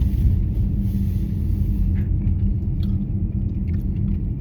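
Car driving on a road, heard from inside as a loud, steady low rumble of engine and tyres with a few faint rattles.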